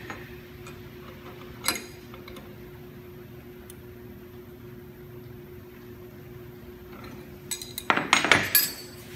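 A bit collet is tightened in the spindle of a Techno HD CNC router, producing faint scattered metallic ticks under a low steady machine hum, then a cluster of louder clinks near the end.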